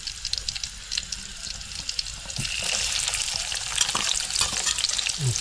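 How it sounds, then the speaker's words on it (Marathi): Chopped onion frying in hot oil on a wood-fired village stove, a loud, continuous sizzle with crackling bursts and stirring scrapes that grows denser as it goes on. "हे बघा, आता कांदा टाकला आम्ही."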